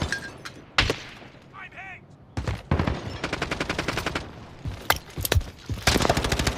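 Automatic gunfire on Rebirth Island in Vanguard Warzone, rapid bursts of close loud shots in several volleys with brief pauses, alongside team voice chat.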